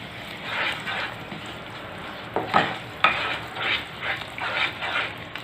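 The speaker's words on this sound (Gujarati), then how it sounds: "સરસ બધું મિક્સ કરી લઈશું" Red chilli pickle with jaggery is stirred together with spices in a dish, heard as a run of soft, wet scraping strokes, some sharper clinks among them, with a faint hiss underneath.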